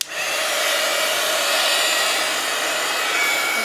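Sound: dryer drying matte gel medium on a craft project

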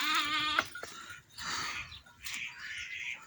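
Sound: sheep bleating

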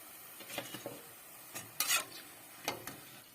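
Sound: frying garlic pampushki buns in oil

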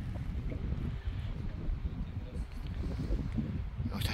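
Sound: wind blowing

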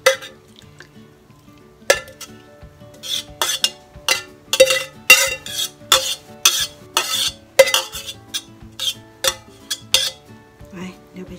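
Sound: serving food onto a plate with utensils

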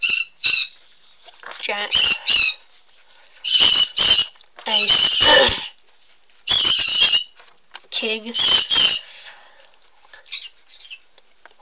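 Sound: birds chirping outside

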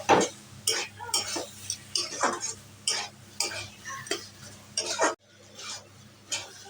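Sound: stirring banana flower and chickpea curry with ghee

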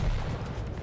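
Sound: rocket fired in the video game Quake Champions

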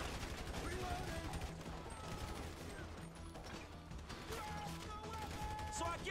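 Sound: gunfire in video game Grand Theft Auto V

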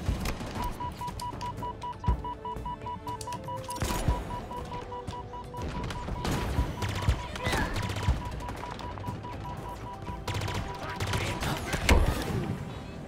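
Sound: sniper gunfire in video game Halo Infinite

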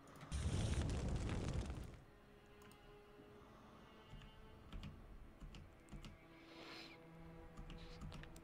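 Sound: gunshot in the video game The XCOM-Files

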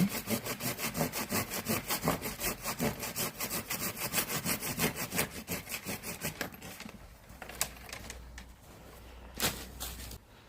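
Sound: hand saw pruning thick apple tree branches

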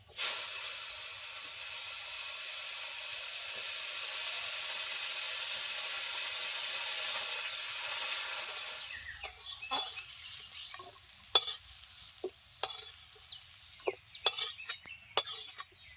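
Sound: bitter gourd frying in oil

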